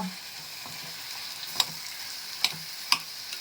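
Carrots, beans and peas sauté in a pan with a soft continuous sizzle, broken by a few sharp clicks and taps of a spatula against the pan.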